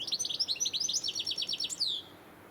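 A goldfinch sings outside a village hall along a heritage trail walk in Rutland, a rapid run of bright twittering chirps and trills lasting about two seconds, clear and fairly close, with no talk over it.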